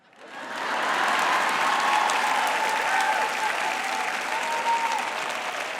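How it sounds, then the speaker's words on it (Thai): Applause from an audience at a Thai Christian church service rises quickly and holds steady as a broad, sustained wash of clapping, moderately loud with no speech over it. "คนที่เขาปรบมือให้ฉัน"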